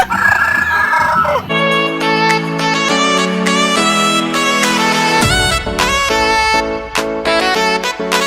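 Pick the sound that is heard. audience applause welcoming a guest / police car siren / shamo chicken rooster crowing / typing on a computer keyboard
shamo chicken rooster crowing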